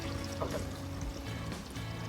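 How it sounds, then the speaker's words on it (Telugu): About a litre of water is poured into a pressure cooker pot sitting on a lit stove. It makes a soft, steady pouring splash, fairly faint and brief, with no talking. "ఇప్పుడు ఇందులో 1 లీటర్ వరకు నీళ్ళు పోసుకుందాం."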